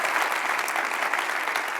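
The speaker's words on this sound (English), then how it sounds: "Please give her a big round of applause" An audience at a commerce software keynote gives a brief burst of applause, a dense, even wash of many hands clapping at steady loudness.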